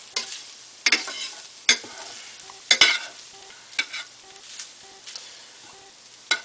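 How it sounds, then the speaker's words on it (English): Ground beef being stirred in a pan with the flame off, a spatula scraping and clattering in irregular strokes over a soft, steady residual sizzle, close and fairly loud. "just move it around a little bit. Make sure it doesn't stick to the pan, because it's still cooking even though the flame is off."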